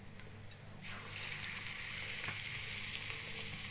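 Ajwain leaf bajji sizzle and fry in hot oil, a steady close crackling hiss that swells after the first second and holds, with faint clinks, no voices.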